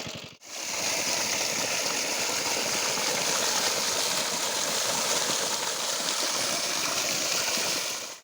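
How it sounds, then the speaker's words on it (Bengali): A water pump machine runs steadily while draining a fishing pond, giving a constant broadband churning drone of engine and rushing water that holds at even loudness throughout after a brief start. "আর মেশিন মোটামুটি চলছে এখানে"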